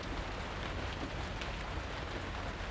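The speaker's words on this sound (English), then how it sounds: "Yeah, it's raining outside." Steady rain falls outside a RAV4 car camper, a dense, even hiss of drops on the surface that stays constant throughout with no voices.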